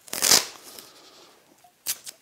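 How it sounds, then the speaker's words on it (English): Masking tape is ripped off the roll and torn while woodworking pieces are joined for Festool Systainer Mini inserts, two sharp, close rasping pulls separated by a short quiet gap. "I'm going to join these pieces temporarily with some masking tape."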